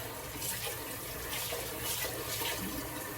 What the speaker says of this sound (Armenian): որից հետո ես ջուր եմ լցնում այստեղ